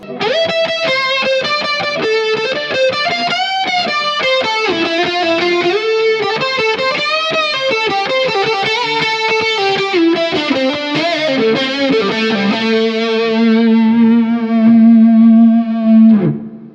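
ENO Music Gemini chorus pedal on an electric guitar playing a smooth, shimmering lead line, sustained notes with a gentle wavering modulation, close and steady, ending on a long held low note.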